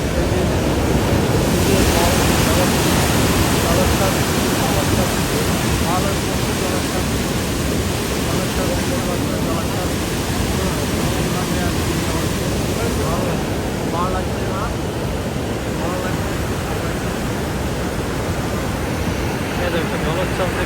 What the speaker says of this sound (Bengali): জলোচ্ছ্বাস দেখতে পাচ্ছ, জলোচ্ছ্বাস প্রচুর জল